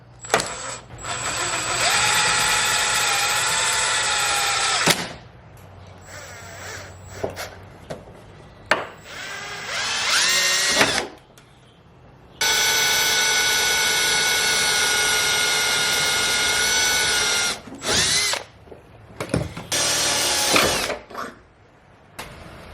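Loud power drill whines in long bursts with pauses between, pitch wavering as the bit cuts through a plastic car bumper, plus short clattering handling noises.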